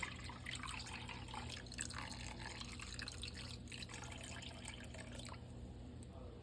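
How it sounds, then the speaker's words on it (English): Chicken broth poured into a slow cooker in a steady, gurgling stream, close and soft, over a low background hum. "I've got a little bit of chicken broth. I'm going to try to pour it on the side over here."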